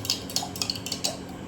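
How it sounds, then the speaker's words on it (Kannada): A spoon stirs chia seeds and gond in a drink, clinking lightly against the glass in quick, irregular taps, close and quiet with no voices. "ಇಷ್ಟು ಚೆನ್ನಾಗಿ ಮಿಕ್ಸ್ ಮಾಡಬೇಕು."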